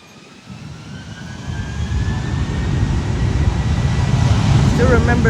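An Airlines Flight 1780 A321neo jet bound for Boston rolls down runway 8 from the North Complex at SJU, its engine roar swelling from a low rumble into a loud, steady, close takeoff drone.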